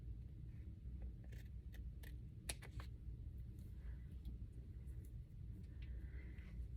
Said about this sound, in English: And we'll just cut this off here.